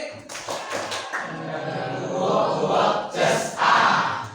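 Classroom of students clapping out a rhythmic pattern, a few spaced opening claps that turn into a busier, louder burst of mixed claps and crowd noise.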